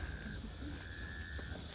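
Faint, thin calls of a male Taipei green tree frog repeat over a steady hum of night insects and low background rumble on a trail in Maokong, Taipei, with a voice murmuring softly in the distance.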